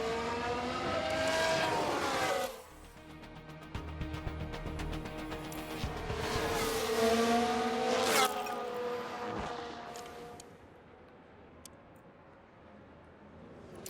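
F1 race cars in the video game F1 Manager 2023, engines screaming as they pass with rising and falling pitch sweeps, several cars close together, loud and then fading away.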